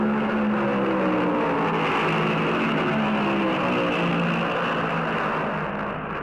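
Stock cars racing at Darlington Raceway in 1971, including a Dodge, with a loud sustained engine roar and droning whir filling the whole stretch, steady and unbroken with no voices.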